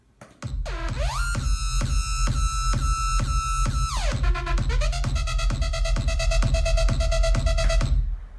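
Early rough version of an electronic track, built in FL Studio: a loud, steady synth-driven loop with sustained chordal pads and a regular pulsing beat, pitch sliding in at the start and shifting midway, no voices.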